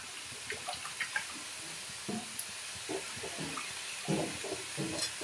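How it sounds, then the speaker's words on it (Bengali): Water poured into a pan of fried spice paste while cooking a fish curry, a soft hissing rush with small splashes and bubbling, close and steady, with no voices. "এবার জল দিয়ে দেবো"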